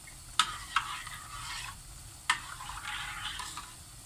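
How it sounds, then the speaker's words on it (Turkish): A spoon stirs milk into semolina halva in a pan. There is a faint, soft swirling and sizzle with a few light clicks of the utensil against the pan, and no voices. "Sütümüzü de karıştıralım."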